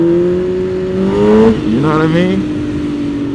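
Sportbike engine revving hard as the rider pops a wheelie, a loud rising whine that surges and wavers, with someone talking over it.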